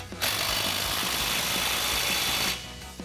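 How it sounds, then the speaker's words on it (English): Up close under an F-150 fitted with a C&L dual exhaust system, an exhaust clamp is tightened with a 15mm socket, giving a steady buzzing whir of a power driver that runs for a couple of seconds, then stops. "Use a 15mm socket and tighten this up."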